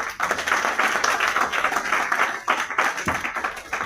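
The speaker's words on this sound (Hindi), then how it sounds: "एक बार इनके लिए भी तालियां बजा" Audience clapping for Ranjit at a seminar, a sustained, even round of applause from many hands, moderately loud and without speech.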